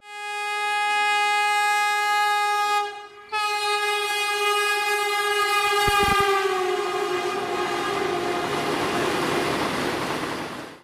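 A Vande Bharat express train's horn blares long and loud with a sustained chord on a trial run from Chennai Central to Mysuru, briefly breaks, then resumes as the train rumbles past nearby.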